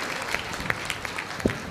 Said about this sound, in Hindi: आइए हमारे डॉक्टर साहब का स्वागत करिए ताली बजा करके